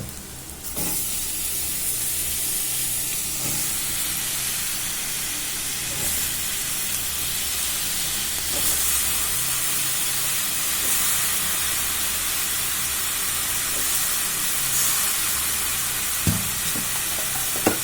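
Chopped ridge gourd sizzles steadily in a hot pan, a continuous loud frying hiss with occasional stirring clinks, close up and with no talking.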